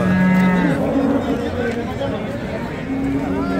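Cows low loudly at a livestock market selling mother cows with calves, one long moo up close and further calls around, with crowd chatter in the background.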